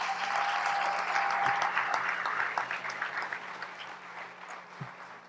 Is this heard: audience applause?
yes